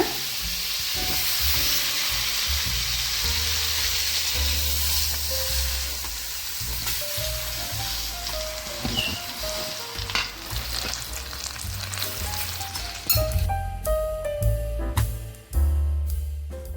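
A 1.5 kg block of butter melts in a heavy pan over a low to medium flame, giving a loud steady frying hiss with soft scraping and occasional clinks of a utensil, then quieter crackling toward the end.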